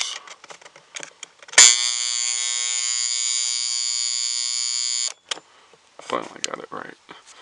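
A GE analog alarm clock's alarm rings as a steady, loud electric buzz for several seconds, preceded and followed by quiet handling clicks and brief talk.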